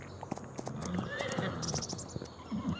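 Horse hooves clip-clopping at a gallop in Farming Simulator 25, with a rapid repeating beat of close, fairly loud thuds and a whinny mixed in, under faint game ambience.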